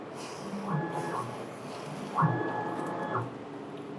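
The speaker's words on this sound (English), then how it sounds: "we place X home and test vertical calibration print" An inkjet print head on a Hoson-board printer runs a vertical calibration test print: two faint mechanical passes of the carriage, each a whirring sweep of about a second, separated by quiet.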